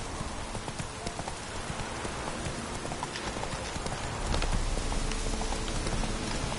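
Roach the horse trotting in The Witcher 3: steady, rhythmic hoof clip-clops over a constant rain-like hiss, growing a little louder toward the end.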